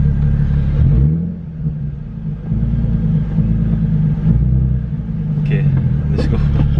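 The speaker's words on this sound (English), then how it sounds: "Let's give it a little rev first." A Nissan 370Z fitted with a Tomei Expreme Ti titanium exhaust idles with a deep, loud rumble, then revs up and settles back, while people talk over the engine noise.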